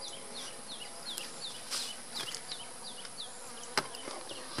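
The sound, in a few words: honey bees buzzing around a hive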